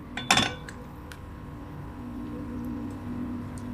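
A spoon clinks against a container while stirring coffee into a herbal toothpaste mixture, a quick burst of metallic taps near the start, then soft scraping and faint clinks.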